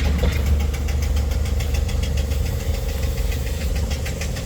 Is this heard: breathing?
no